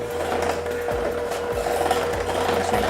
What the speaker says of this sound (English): combine the dry ingredients with our mixer